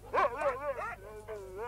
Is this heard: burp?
no